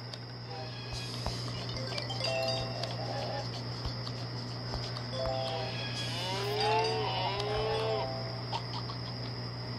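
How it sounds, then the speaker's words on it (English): Cows moo in the Tracky Train video game, a few drawn-out calls rising above a steady game background hum and music, moderately loud and layered with other farm-animal game sounds. "Oh, hey there, cows."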